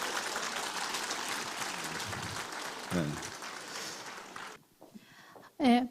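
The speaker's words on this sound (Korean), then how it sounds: "큰 박수 부탁드리겠습니다" An audience at a ceremony applauds in a steady, dense wash of clapping for several seconds before it fades away, leaving near silence and then a voice speaking close to the microphone.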